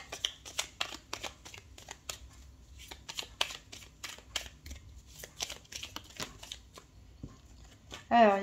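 Oracle cards being shuffled during a reading, a run of quick papery riffles and flicks repeating through the whole stretch under a soft voice, with a louder thump right at the end.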